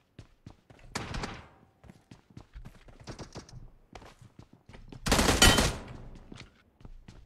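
Gunfire in the mobile game PUBG Mobile: sharp single shots and short clusters of pops, then a loud burst of firing toward the end, over faint footstep-like clicks.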